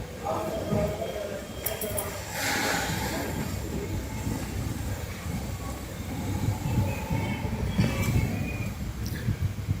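The Panchaganga Express pulls out of Kumta railway station, its carriages rumbling and rolling steadily nearby, with occasional higher squeals and clanks over the continuous train noise.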